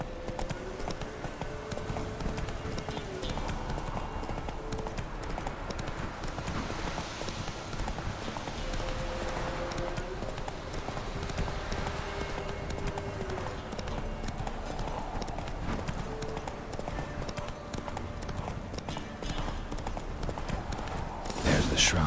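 Roach the horse trotting in The Witcher 3, a steady, even clip-clop of hooves going on throughout at moderate level with ambient game sound beneath it.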